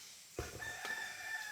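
Native chickens kept on a tilapia farm, with a rooster crowing in a single sustained call that rises sharply and holds steady, moderately close against faint outdoor background noise.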